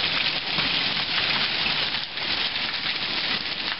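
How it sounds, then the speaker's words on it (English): Hail pelts a porch and stoop in a steady, dense hiss of countless small impacts, loud and close, with no talking over it. "A whole lot of hail."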